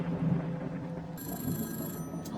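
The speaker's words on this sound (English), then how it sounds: "Nothing good ever comes from the phone ringing." Old-style telephone bell ringing in a horror video game, a bright sustained ring entering partway through over a low droning background, moderately loud.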